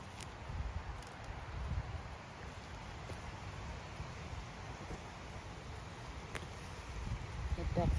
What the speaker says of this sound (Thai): พอเดินเข้ามาในป่าปุ๊บลมมาทันทีเลย